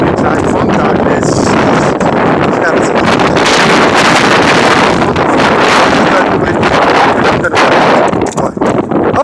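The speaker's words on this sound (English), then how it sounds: "Hope you can hear me with the wind" Outdoor wind gusts buffet the microphone with a loud, steady roar that fills the whole stretch, rising and falling slightly but never letting up.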